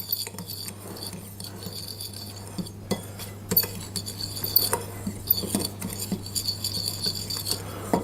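Ground cinnamon and sugar mixed together in a bowl, soft scraping and light clinking of a utensil against the dish, close and continuous with small irregular ticks and taps, no voices.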